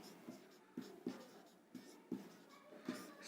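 Chalk taps and scrapes on a board in a classroom, about seven short strokes in a quick uneven rhythm, faint and close with no talk.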